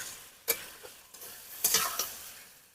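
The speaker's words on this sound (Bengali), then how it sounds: "এবার ভেজে রাখা আলুগুলো দিয়ে দিচ্ছি। কতটা সুন্দরভাবে কষিয়ে নিচ্ছি দেখো বন্ধুরা।" Fried potatoes being sautéed with spices in a pan, a soft sizzle broken by a few sharp scraping stirs.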